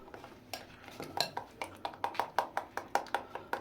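Chocolate cake batter made from biscuits and milk is mixed in a bowl, a spoon clinking against the rim in a quick, rhythmic series of close, light taps.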